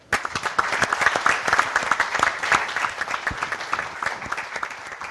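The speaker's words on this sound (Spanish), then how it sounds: "Un aplauso, por favor." An audience at a citizens' dialogue on legislative challenges for caregivers in Chile applauds a congresswoman being introduced, starting abruptly with sharp, distinct claps that build into steady clapping and taper slightly toward the end.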